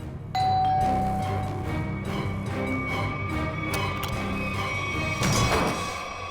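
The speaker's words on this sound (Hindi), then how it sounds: "कौन डोरबेल बजा रहा है इतनी रात गए?" A doorbell rings at night inside a home, with a clear ding-dong chime near the start and a second ring later over a tense background music bed.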